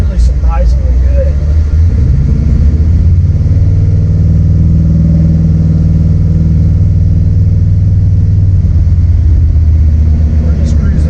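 A 1969 Ford Fairlane cruises through an industrial park, its engine giving a steady, loud, low rumble from inside the car throughout.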